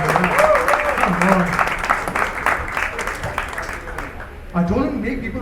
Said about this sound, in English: Guys, give a round of applause.